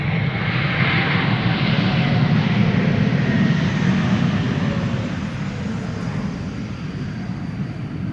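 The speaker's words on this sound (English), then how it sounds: "This is Swiss coming in from Zurich. Bombardier C-Series 300 or A220 as they're called these days." A Swiss Bombardier C-Series 300 (A220) jet landing at Amsterdam Schiphol Airport in showery winter weather, a steady loud broadband engine roar holding throughout and easing slightly toward the end.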